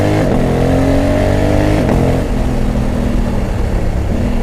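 A 2020 Honda Africa Twin 1100 adventure motorcycle with a quick shifter and blipper revs loudly up close, its deep throbbing note sweeping up and dropping back in several distinct blips.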